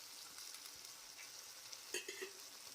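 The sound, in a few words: tomatoes frying in oil with salt and cumin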